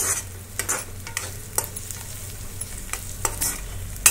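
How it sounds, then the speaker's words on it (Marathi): Two large chopped onions frying in hot oil, a soft continuous sizzle broken by regular scraping stirs of a spoon against the pan, nearby and without talk. "ते दोन मोठे कांदे कापून गरम तेलामध्ये चांगले भाजून घेतले।"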